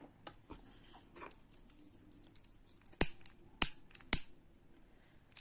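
Scissors snipping the yarn ends of a crochet piece, three sharp close clicks spaced about half a second apart after some quiet handling rustles, with no talking.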